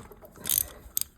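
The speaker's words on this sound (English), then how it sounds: "I tighten the bolt up" A bolt being tightened on a hydraulic pump mounting of a Case Ingersoll 3016 HyDriv tractor gives a short ratcheting rasp followed by two quick metallic clicks, close and brief.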